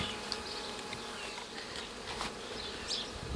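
Steady buzzing of many slightly agitated honeybees swarming close by at a hive on a sunny, windy day, a dense continuous drone with individual insects flaring louder now and then.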